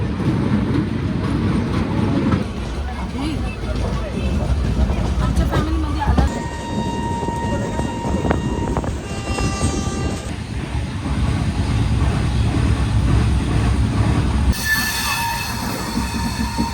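A train pulls into Ujjain station with continuous rumbling, rhythmic rail noise and several piercing wheel squeals rising over it, while people talk faintly in the carriage.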